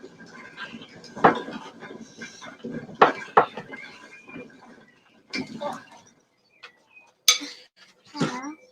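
Thick medieval-style gingerbread mixture being tipped from a pan into a bowl, giving scattered clunks and scrapes of cookware and utensils with pauses between, close by, along with someone speaking.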